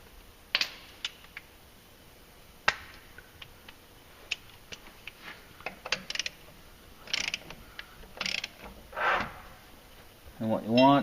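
Sharp metallic clicks and scattered ticks from tightening a left-hand-threaded clutch fastener to factory spec on a Wildcat fitted with Team Industries clutches and an EPI clutch kit. The clicks are close, irregular and separated by quiet gaps.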